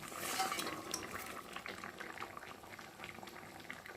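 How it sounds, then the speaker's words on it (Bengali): Fried fish pieces simmer in a potato curry gravy, giving a soft, steady bubbling with scattered small pops. The pot sounds quiet and close, with faint utensil touches now and then. "এখন ভেজে রাখা মাছগুলোকে দিয়ে আর একটু ঝোলের সাথে ফুটিয়ে নেব"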